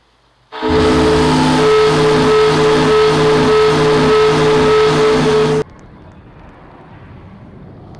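Ship engines of the RMS Canopic start up in the game Shipwrecked, a loud, steady mechanical roar with a low droning tone and a faint pulsing rhythm that holds for about five seconds, then cuts off abruptly into quiet ambience.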